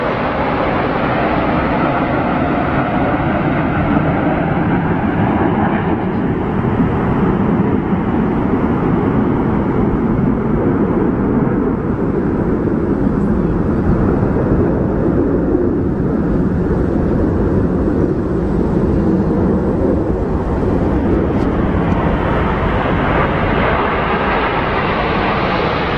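Twenty-two RAF Typhoon fighter jets flying over London in the RAF100 flypast, making a loud, sustained, rushing roar that stays steady for the full length.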